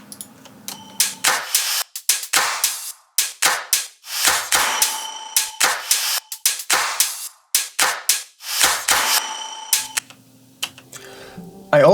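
Crisp hi-hats and sharp claps in an electronic pop track with an auto-panned final open hat, rapid bright percussive hits in a steady pattern alongside sustained synth tones, loud and upfront.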